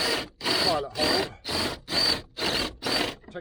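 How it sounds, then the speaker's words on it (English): A power drill with a step bit whines through steel, enlarging a pilot hole, in seven even bursts, each lasting about a third of a second with short pauses between. "Then I've got a nice step drill."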